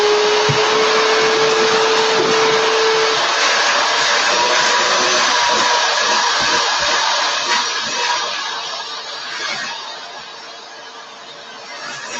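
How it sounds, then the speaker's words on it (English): A vacuum cleaner roars close and steady, sucking up foam dust in a prop workshop, a continuous loud whoosh that eases slightly toward the end. "we need a little vacuum friend here"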